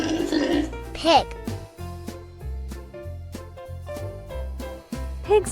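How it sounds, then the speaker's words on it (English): A pig grunts and oinks in a couple of short bursts, near the start and again at the end, over a steady bouncy backing tune. "Pig."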